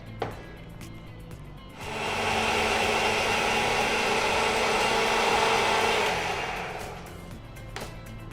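A mixer grinder whirs steadily as it grinds soya 65 masala into a paste, the motor starting up and running at full loudness for several seconds before winding down, with no talking over it.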